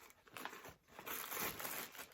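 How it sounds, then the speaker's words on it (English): A big plastic bag is crinkled and crushed by hand close to the mic, with bursts of crackling rustle separated by a brief lull, quiet and without speech. "Big plastic bag."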